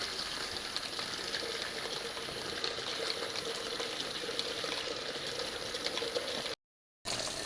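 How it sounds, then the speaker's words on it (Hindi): Water runs steadily from a household tap, a continuous broadband hiss and gurgle at moderate level with no talk, cut by a brief dropout near the end. "देखो पानी आ रही है"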